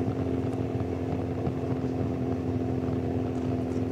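A race motorcycle leads riders in the Grote Prijs Rik Van Looy cycling race, its engine a steady, droning hum with a constant tone throughout, close and continuous with no pauses.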